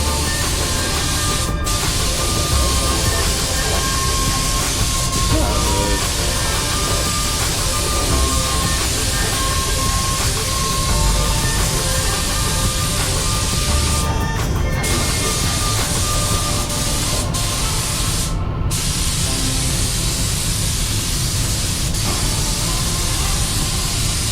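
Lacquer clear coat sprayed onto a car part for a Nissan S-chassis build, a steady, loud, continuous hiss of spray that runs unbroken throughout with no talking.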